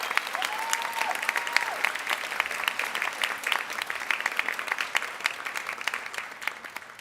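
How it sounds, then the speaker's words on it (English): A commencement ceremony audience claps for the parents and loved ones, a dense, sustained round of applause filling the hall for several seconds. "How about a round of applause for the parents and loved ones?"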